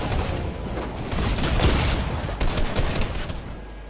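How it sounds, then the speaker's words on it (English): Dense, steady gunfire from a Fortnite battle, a continuous crackling burst with heavier booms mixed in, loud and close for the whole stretch with no voices over it. "I shoot them, then I run."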